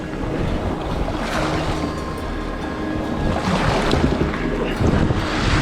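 Ocean waves and surf wash around a fishing kayak off the East Lothian coast, a constant loud roar and rumble with wind buffeting the microphone, swelling slightly toward the end, no voices.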